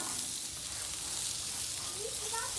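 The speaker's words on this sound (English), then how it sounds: "Now we're gonna throw on our green peppers here." Green peppers frying on a Blackstone 28-inch griddle for cheesesteak sandwiches, giving a steady, close hiss of sizzling with faint crackle throughout and no talking.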